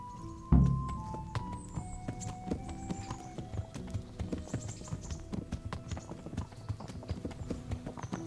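Horse hooves clip-clop steadily in the medieval video game Kingdom Come: Deliverance, a close, regular walking rhythm that starts with a loud thump and carries on under faint ambient game sounds.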